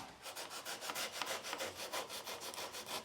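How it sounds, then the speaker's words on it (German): A wood carving in a Grainau carvers' workshop is sanded by hand with sandpaper, making steady, evenly spaced back-and-forth rubbing strokes, close and alone. "Ich würde es genauso schleifen, aber ich nehme ein größeres Schleifpapier."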